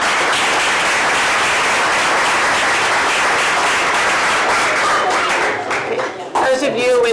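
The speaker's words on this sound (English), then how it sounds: "so I just want to make sure we give her a round of applause also." Steady audience applause fills a board meeting room, loud and dense for about five seconds before thinning out and ending, with a voice starting to speak at the close.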